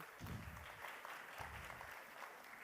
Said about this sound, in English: big round of applause, please, for Anna